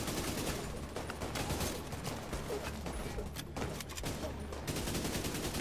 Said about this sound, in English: let me quickly get out my machine gun so I can shoot them